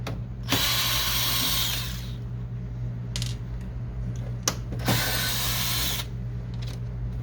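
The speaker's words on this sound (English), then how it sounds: "There's two screws that we're going to remove." Two screws are backed out of the faceplate of an HP Officejet 6500 printer during disassembly, heard as two separate close, loud whirring bursts of a driver with short ratcheting clicks between them.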